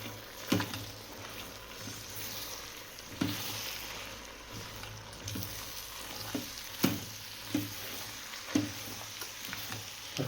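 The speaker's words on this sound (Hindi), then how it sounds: "तो हमने इसमें डाला है 2 किलो प्याज।" Two kilograms of onions fry in oil with a steady close sizzle, broken every second or so by sharp scraping knocks of a spatula stirring the pan.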